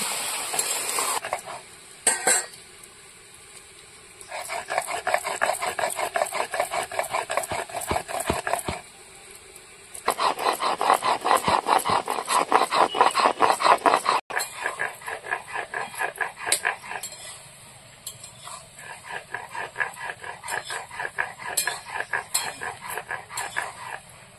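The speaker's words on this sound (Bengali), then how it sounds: "দিয়ে এবার ঝিঙেটা ভালো করে কষিয়ে দেবো।" Ridge gourd being stir-fried in a pan with turmeric for a Sundarbans-style jhinge posto, with a spatula scraping and clattering in quick repeated strokes against the pan across several bursts, sizzling underneath, no talk.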